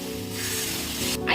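Water poured into a pan of fried poppy seeds, giving a loud, close, hissing sizzle that holds steady and then swells briefly at the end.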